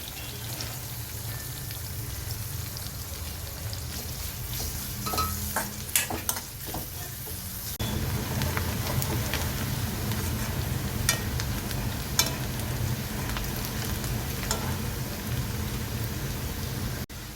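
Two chopped onions and a green chilli fry in hot butter for butter chicken, a loud, constant crackling sizzle with scattered spatula taps. Partway through, the sizzle grows fuller and louder.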